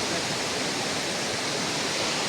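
A river near Udawalawe, Sri Lanka, running low over exposed rocks gives a steady, even rushing of flowing water, continuous and close with no voices.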